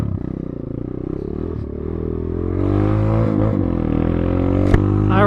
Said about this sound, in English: I do have to say that the muffler that they put on these machines sounds really good. It's throaty, it's deep